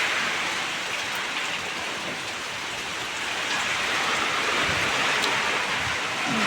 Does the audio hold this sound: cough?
no